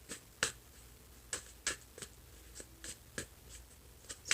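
Tarot cards are shuffled close up in a quiet room, giving a series of sharp, crisp snaps and riffles at an irregular rhythm, faint overall with no talk.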